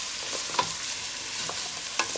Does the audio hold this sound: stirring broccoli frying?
yes